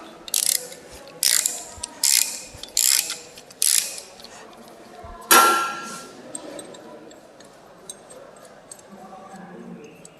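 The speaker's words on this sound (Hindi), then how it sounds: "इसी प्रकार अगर इस दोनों बोल्ट को कसना होता है तो हम सॉकेट रिंच के द्वारा ही इसे टाइट करते हैं" A socket ratchet wrench works on bolts, giving about six short, sharp ratcheting clicks in a rhythmic series, followed by a louder clank and then quieter handling noises.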